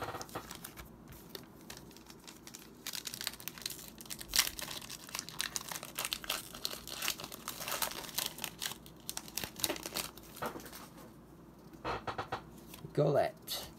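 Crinkling foil wrapper of a Pokémon trading card booster pack being handled and torn open, with rustling and scattered crackles over quiet room tone.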